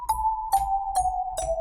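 A synth melody from an FM plugin in FL Studio plays four even, bright plucked notes with a sustained tone that steps slightly downward, each note starting with a soft percussive attack. It sounds clean and alone, with no talking.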